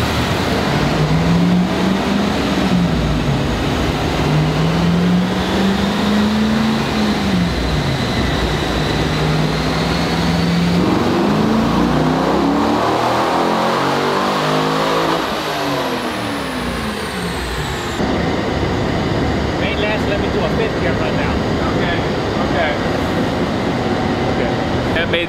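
Rotary-engine Corvette accelerating hard through a third gear pull, the engine note rising steadily, dipping and rising again, loud and close with a speaking voice heard over the roar.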